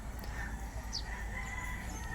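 Chickens cluck and call over a noisy farmyard background, several birds at a moderate distance.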